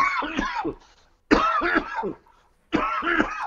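Three harsh bursts of coughing from smoking a blunt come in quick succession up close, each a raspy cluster of hacks separated by short pauses.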